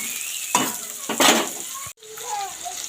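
Cumin seeds, chopped onion and tomato sizzling and frying in a pan for a meat curry, with a couple of bursts of stirring and scraping over a steady close hiss, then quieter spitting oil.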